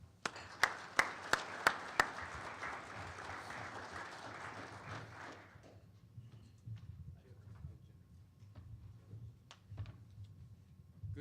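An audience at the Life Sciences Ontario Annual Fall Symposium 2014 applauds to welcome the opening keynote speaker. The steady clapping, opened by a few sharp claps, fills a hall for about five seconds before fading into quiet room noise.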